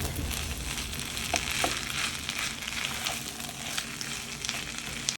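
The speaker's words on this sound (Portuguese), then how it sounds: "O bacalhau segue aqui, refogando." Salt cod (bacalhau) sautéing in a pan: a steady, close sizzle and crackle of frying runs throughout, with a few sharper pops and light stirring scrapes.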